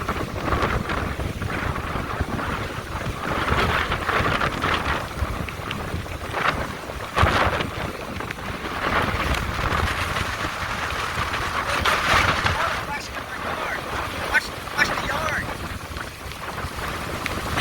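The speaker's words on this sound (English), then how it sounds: "check out the water crashing over here" Hurricane Sally on the Dauphin Island, Alabama coast: strong wind roars and buffets the microphone over continuous crashing surf, loud and unbroken, with a person talking at times.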